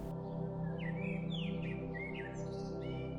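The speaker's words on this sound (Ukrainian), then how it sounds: "Десь далеко пташки гарно співають." Birds chirp and whistle softly in the distance over a steady, low background drone.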